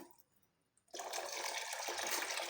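Water pours into a thick white-wheat injera batter that is being thinned. A short quiet pause gives way to a sudden steady splashing stream that carries on close and fairly loud.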